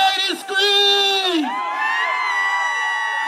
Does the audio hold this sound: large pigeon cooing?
no